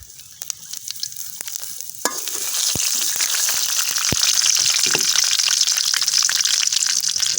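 Bay leaves dropped into hot oil for lentil dal with jute leaves, a few sharp clinks and small spatters, then a loud sustained sizzle that swells and holds, close and without talk.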